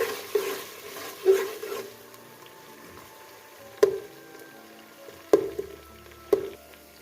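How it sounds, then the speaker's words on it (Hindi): Ingredients for aloo matar pulao fry quietly in a pot, a low steady sizzle broken by several sharp clinks and scrapes of a spoon stirring against the metal. "जैसे 1 मिनट के लिए हम इसको फ्राई करेंगे।"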